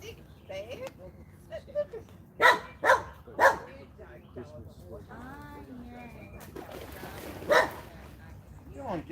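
A dog barks a few loud, sharp times in the outdoors near water, with a later single bark, while a person talks warmly to it throughout.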